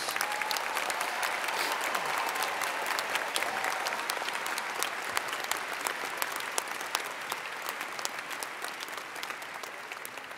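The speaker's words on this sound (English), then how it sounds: "Please join the Dean in a round of applause for all our doctoral degree recipients" A large commencement crowd applauds doctoral degree recipients, a long, sustained wash of steady clapping from many hands that thins slightly toward the end.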